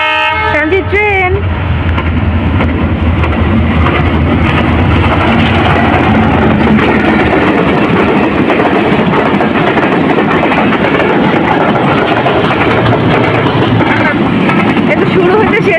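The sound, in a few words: passing train at a rail crossing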